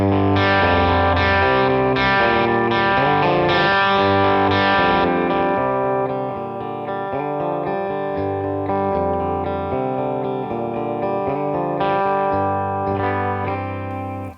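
Overdriven electric guitar chords start heavy and crunchy, then the playing softens partway through and the tone turns cleaner while notes keep ringing.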